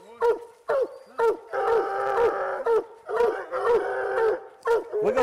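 A treeing walker coonhound bays during a coon hunt, giving repeated loud, drawn-out howling bays close by, with short pauses between them.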